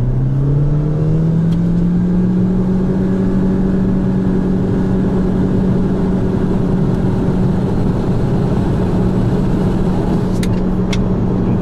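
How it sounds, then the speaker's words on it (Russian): Chery Tiggo 4 accelerating with the throttle floored, its engine droning in a steady rising tone from inside the cabin, continuous and fairly loud, with no speech. "Все, газ-пол просто. Нажал газ-пол."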